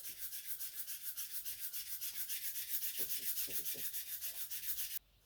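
Steady back-and-forth sanding of vintage steel with 180 grit sandpaper, a rhythmic rasping scrape at a fast even pace, close and moderately loud, stopping abruptly near the end.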